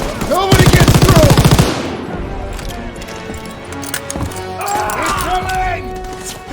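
Loud, close machine gun fire in the Call of Duty WW2 D-Day campaign: a dense, rapid burst lasting about a second, then battlefield rumble and shouting voices.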